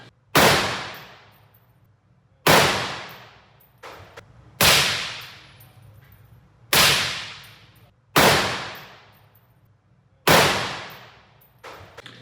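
A .308 designated marksman rifle fires six sharp shots at regular intervals, alternating with and without an Anechoic 30L suppressor. Each report is loud and close and rings off in a long decaying tail.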